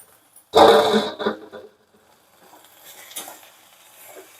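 Chopped drumstick (moringa) leaf greens tipped into a hot kadhai give a sudden loud sizzle and hiss that fades within about a second, followed by faint rustling and stirring.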